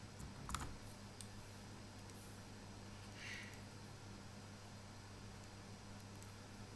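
Faint computer keyboard typing as a question is entered, just a few scattered key clicks over a steady low electrical hum, with no voices.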